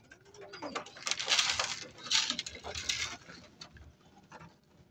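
Pigeon feed poured into containers in a racing pigeon loft on a morning feeding, heard as a few rattling bursts of grain amid soft cooing of nearby pigeons.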